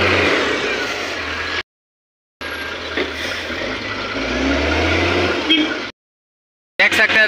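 BharatBenz 2023 model truck engine running steadily during loading, a loud continuous rumble with reversing beeps, broken by short abrupt gaps of silence.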